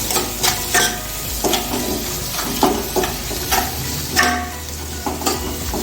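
A spoon scrapes and stirs through food sizzling in a frying pan while cooking roti tacos, with rhythmic stirring strokes over a constant loud hiss of frying, close up and without talk.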